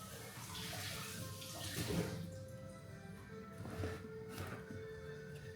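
Water runs steadily from a tap while items are rinsed off under it, a continuous close splashing flow with a few louder surges and no talking.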